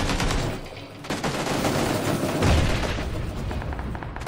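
A bomb fired in PUBG on Xbox One: a dense, loud barrage of booms and rapid gunfire-like bursts rolling on continuously, with a heavier low thump midway.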